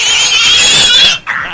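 A pig gives a loud, high-pitched squeal as a sound effect, held for about a second, then cut off by a shorter second squeal. Close and alone.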